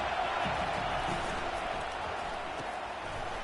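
A large stadium crowd at a college football game against USC roars in a continuous, dense wash of cheering and noise, loud and sustained throughout.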